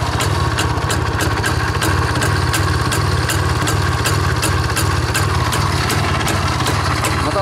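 A motorcycle engine idles close by, a loud, steady low chugging with a rapid even pulse and regular sharp ticking, running alone without speech.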